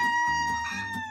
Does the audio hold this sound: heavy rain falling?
no